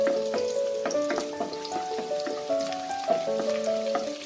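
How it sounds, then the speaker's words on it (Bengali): Chopped garlic fries in hot white oil, a dense, continuous sizzle with crackling pops, close and steady throughout, no voices. "তেলটা গরম হয়ে গেছে। এতে আমি প্রথমে রসুন কুচিটা দিয়ে দেবো।"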